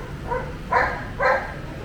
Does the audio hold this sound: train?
no